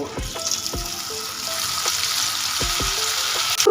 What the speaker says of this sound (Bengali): তেলটা আমাদের খুব ভালো মতো গরম হয়ে গেছে এবারের মধ্যে সয়া চার্সগুলো ভেজে নেব